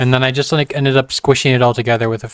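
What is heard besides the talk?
None of the usual background noises is heard.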